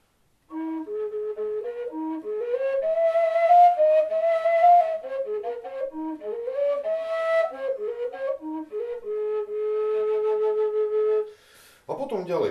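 A four-hole folk fipple pipe, a Slovak folk aerophone, plays a clear, bright melody of stepwise notes with steady breathy tone, close and alone for about eleven seconds before ending with a brief knock.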